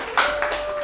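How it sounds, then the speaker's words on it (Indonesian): A few sharp claps from a classroom for a student group, three or four quick, close hand slaps over a faint steady background tone. "Tepuk tangan untuk kelompok 3."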